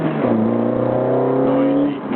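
An MGF sports car revs hard close by, its exhaust note rising in pitch in a steady, loud climb before easing off at the end.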